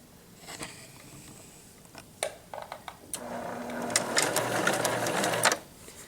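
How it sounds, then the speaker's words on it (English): A sewing machine back stitching in reverse: a few sparse clicks, then a steady whirring burst of stitching for about two seconds before it stops. "Hold down your reverse stitch switch and back stitch 3 stitches."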